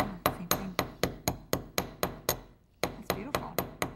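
Sterling silver wire ring being hammered for a textured finish: a rapid, even run of close metallic taps, about four per second, with a brief pause midway before the tapping resumes.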